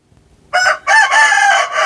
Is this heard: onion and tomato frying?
no